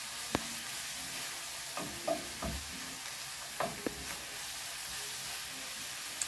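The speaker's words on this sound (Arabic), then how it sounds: "ودابا غادي نقلبو كلهم لي زيتيس ديالنا مع العناصر كاملين" Vegetables with onion and hot pepper sizzling in oil in a pan, stirred a few times with soft scrapes and knocks over a faint, steady hiss.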